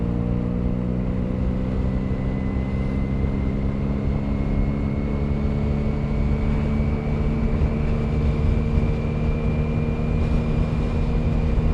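A Benelli TNT 300 twin-cylinder motorcycle engine pulls steadily in sixth gear, a loud, continuous drone whose pitch climbs slowly and evenly as the bike gains speed, with no gear changes or breaks.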